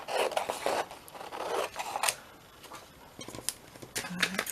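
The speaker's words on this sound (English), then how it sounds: "I'm going to cut this off." Scissors snip through paper for an envelope craft, a quiet run of quick, close cuts in short bursts with a brief pause before a few more snips.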